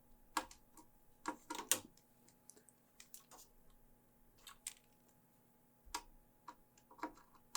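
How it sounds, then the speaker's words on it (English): Screws are driven into a motherboard inside an HP Pavilion being rebuilt into a Cooler Master NR200 ITX case, with quiet scattered metallic ticks and clicks in small bursts over a faint hum. "And now I can screw in our two top motherboard screws."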